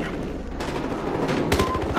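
Rapid 416 rifle gunfire bursts crackle in the Battlefield Hardline video game, dense repeated shots across two seconds with a sharper burst near the end.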